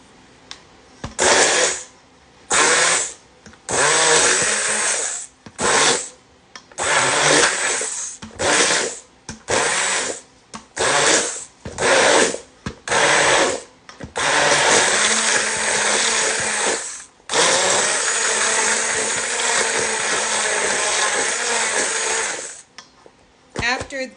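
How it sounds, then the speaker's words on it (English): A stick blender mixing soap whirs in repeated short bursts, then runs continuously for several seconds before stopping, its motor buzzing loudly and close. "Here's my stick blender."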